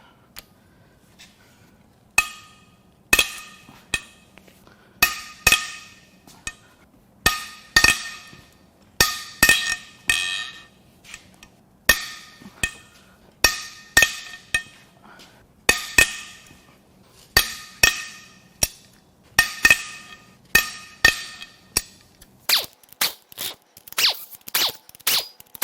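A triple square tool loosens the head bolts on a 2010+ Toyota Prius 1.8L 2ZR-FXE engine during teardown, giving sharp metallic clicks and clinks that repeat in clustered bursts, close and distinct over a quiet background.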